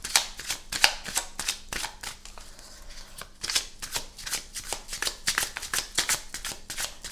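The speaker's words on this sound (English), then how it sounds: "we'll go for the top card after 3 shuffles" Oracle cards are shuffled in quick rustling bursts, a rapid flurry of crisp riffles and pauses, close and fairly quiet, with no talking.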